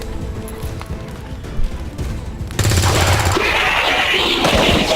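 Soldier's gunshot in the video game XCOM 2, a sudden loud burst of gunfire around two and a half seconds followed by sustained rattling combat noise, after quieter background sound.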